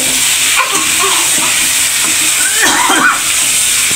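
Eggplant going into a pan of fried radish for a Bengali chorchori, frying with a steady broad sizzle and hiss, plus a few scrapes and clatters of stirring near the middle and end.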